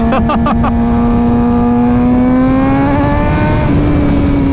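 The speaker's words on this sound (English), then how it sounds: "Oh man, I love high revving engines." A Suzuki GSX-R600 sport motorcycle engine drones loud and close at a high, steady pitch that climbs gradually, smooth and sustained throughout under wind noise.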